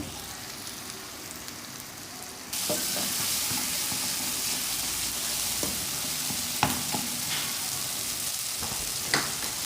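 Spices including cumin and fenugreek sizzle in a frying pan while being stirred for an egg and onion curry. A quieter hiss swells into a loud, steady close sizzle, broken by occasional scraping strokes.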